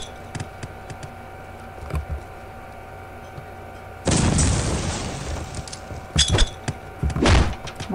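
A grenade explosion in Postal 2, one sudden loud blast with a rumbling tail, followed by a couple of shorter thumps, over a quiet game background.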